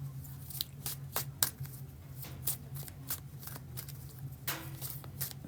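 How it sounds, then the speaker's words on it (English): Tarot cards being shuffled by hand, a steady series of quick riffling and flicking bursts, close and fairly loud over a low constant hum. "Make sure these cards are good and shuffled."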